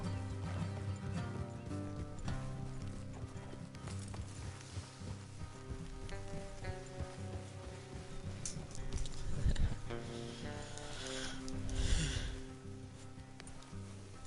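Horses' hooves clip-clop steadily under a dense music and ambient bed while riders travel through the Red Dead Redemption 2 open world, the hoofbeats fairly soft and partly masked, easing as the horses slow to a stop.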